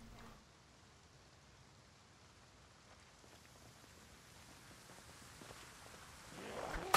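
Rain falls in the video game Project Zomboid as a faint, even hiss of drops that slowly grows heavier and louder toward the end.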